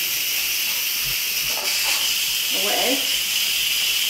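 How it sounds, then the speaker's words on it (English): Steam hisses steadily and loudly from an Instant Pot pressure release valve, a continuous broad rush running throughout, with a brief spoken word partway through. "Now we're going to release the steam from our Instant Pot"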